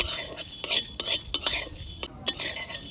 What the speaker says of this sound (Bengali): আগে এই দুটো উপকরণ খুব ভালোভাবে ভেজে নেব